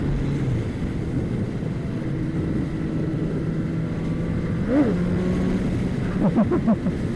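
A Triumph Street Triple 765 motorcycle, past its 1600 km run-in, holds a steady, loud engine drone with a rising whine, then gives several quick throttle blips near the end.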